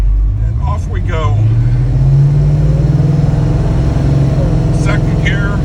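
A car with an AOD automatic transmission accelerating from a stop, the engine note climbing steadily as it pulls away, loud and close inside the cabin, with someone talking briefly at the start and end.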